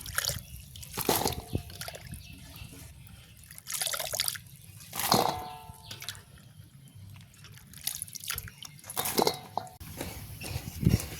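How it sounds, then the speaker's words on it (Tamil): Soft splashes and trickles of water as lentils are rinsed and swirled by hand, intermittent and close, with small drips between. "அம்மா உளுந்து கழுவுறா"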